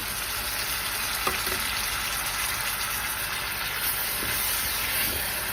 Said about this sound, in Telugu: ఇదంతా కూడా మంచిగా పచ్చివాసన పోయే వరకు కూడా కొంచెం దీన్ని మనం ఫ్రై చేసుకోవాలి